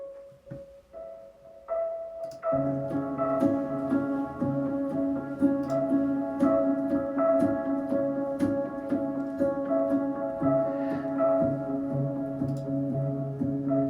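A piano loop in a track starts with a few single notes, then settles into a steady, layered pattern of repeating chords and plinks, moderately loud without any voices.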